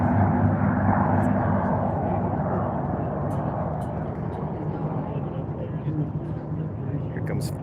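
Unlimited-class racing propeller planes roar past in a row at the Reno air races, a loud sustained engine drone that slowly fades, with a crowd and announcer talking over it.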